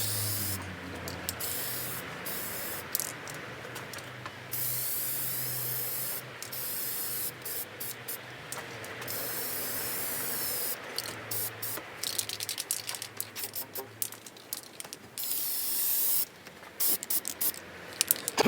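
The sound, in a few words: spraying paint from a spray can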